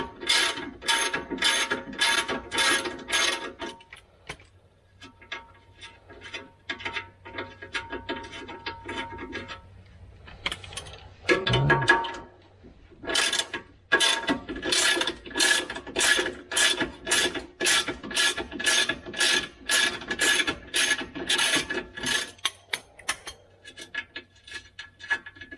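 A ratchet loosens rusty 15mm bolts on a Chevrolet Colorado transfer case, its close, crisp clicking coming in rapid rhythmic runs with short pauses between sets.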